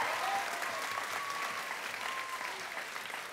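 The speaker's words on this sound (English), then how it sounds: "So a massive, massive, massive round of applause for them." An audience at a school musical applauds the backstage crew, a dense, steady burst of clapping that fills the whole short stretch and fades slightly toward the end.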